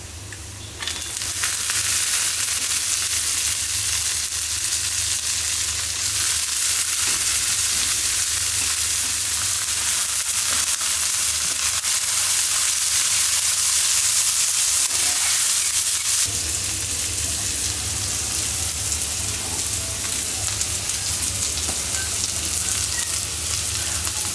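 Spiny gourd frying with chopped jackfruit seeds and potatoes, a steady loud sizzle in hot oil that runs continuously, with occasional stirring scrapes and a brief shift in intensity partway through.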